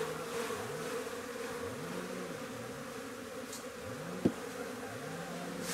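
Honeybees at a weak beehive colony keep up a continuous close buzz, with individual bees swooping past the microphone in repeated rising and falling drones and one brief knock.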